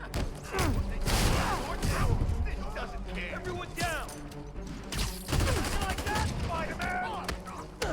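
Enemies fire guns in Marvel's Spider-Man, rapid bursts of loud gunfire and sharp impacts repeating across the scene, mixed with combat noises and talk.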